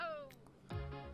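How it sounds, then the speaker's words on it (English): A house cat cries at a window toward birds outside, giving short faint meows in the background behind electronic game music. "my cat is like at a window crying at birds outside"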